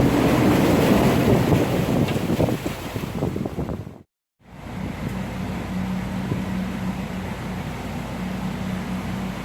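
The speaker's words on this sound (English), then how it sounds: "Sorry about that, the wind got me." Steady, roaring wind buffets the microphone outdoors near water, briefly cutting out to silence midway before the rushing gusts resume.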